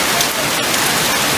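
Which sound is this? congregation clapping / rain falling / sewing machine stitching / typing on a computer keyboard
rain falling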